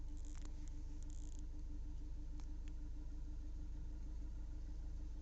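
A Kia Seltos diesel engine idles, heard from inside the closed cabin as a steady, faint low hum with a few small clicks near the start, and no talking.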